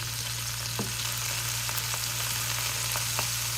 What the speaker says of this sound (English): Going to put our toast on the hot griddle.